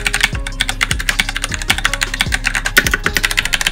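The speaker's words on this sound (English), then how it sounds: "Right here is my keyboard, which I don't use that often, but it's a Razer Black Widow Lite. Orange switches. Sounds really nice" Rapid typing on a Razer BlackWidow Lite mechanical keyboard with orange switches, a close, continuous patter of crisp key clicks with occasional heavier thocks.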